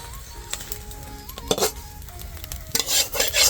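Milk with cardamom is stirred in a pot while being cooked down for barfi. Intermittent scraping and swishing strokes with a few soft clinks from the utensil sound close by over a faint steady tonal background.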